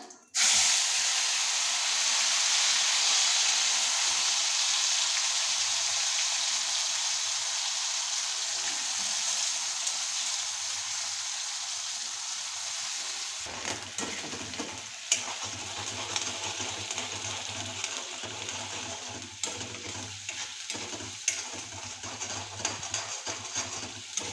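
Homemade masala hits hot oil with mustard seeds and cumin for palak paneer, giving a loud hissing sizzle that later turns into crackling spatter with spoon clatter, close and with no voices.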